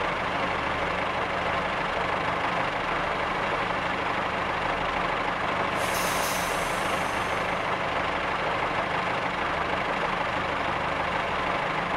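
Air brakes on a Class 143 Riviera diesel unit release in Train Simulator 2015, a sharp burst of hissing air over a steady engine drone, heard alone with no talk.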